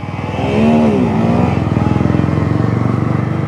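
A Yamaha R15 V4 sport motorcycle engine revs up loudly nearby on a morning ride, then settles into a steady, throbbing idle with a rapid, even pulse. No voices are heard.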